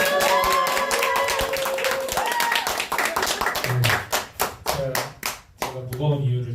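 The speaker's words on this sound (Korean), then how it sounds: "축하해 주셔서 큰 박수" A Korean church gathering welcomes a speaker with clapping. A voice talks over the first half, then sharp, separate hand claps from a small crowd follow in an uneven rhythm.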